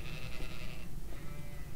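A sheep bleats in an anime scene, a wavering nasal cry that lasts under a second and sits over a steady background hum before fading into the quiet ambience.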